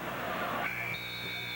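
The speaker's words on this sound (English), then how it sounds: "the shot is off just before the 24-second buzzer" Basketball 24-second shot clock buzzer during an NBA game between the Denver Nuggets and New York Knicks: a sustained electronic tone rises out of loud arena crowd noise and holds steady to the end.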